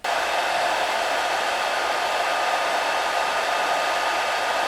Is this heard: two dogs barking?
no